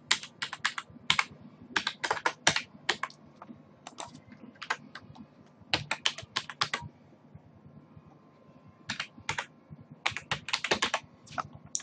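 A PAN number being typed on a computer keyboard during an online income tax return filing: quick clusters of crisp key clicks in bursts and pauses, close and clear, with no talk.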